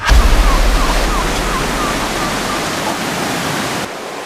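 Strong river water rushes steadily as a broad, loud wash near a cave arch at the source of the Tonto River, with a brief louder surge at the start and a slight drop near the end.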